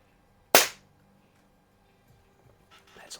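A Crosman Silhouette 1701P air pistol fires a pellet in one sharp, close crack, followed by quiet and faint handling noises.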